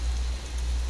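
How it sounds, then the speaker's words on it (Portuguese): Light rain from a weather mod in Euro Truck Simulator 2, a steady soft hiss with a low rumble underneath, continuous and even throughout. "A chuva tá fraquinha agora, tem que esperar a chuva"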